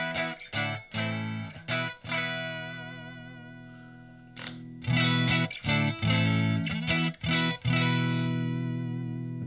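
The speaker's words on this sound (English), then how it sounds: "So the pickups on this model is the Fishman Fluence pickups. So what that means is you get the stratier tones," A Reverend electric guitar with Fishman Fluence pickups is played with bright, Strat-like clean tones, chords and single notes ringing out in bursts with short pauses between phrases.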